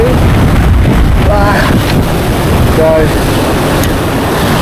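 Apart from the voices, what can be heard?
wind blowing at a windy fishing spot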